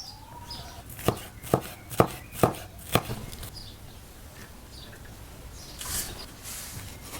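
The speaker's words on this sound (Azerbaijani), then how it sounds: "Tərəvəzlərimin hamısını doğrayıram" Five sharp knife chops land in a steady rhythm while vegetables are cut up for a homemade pizza, close and crisp, followed by quiet room tone.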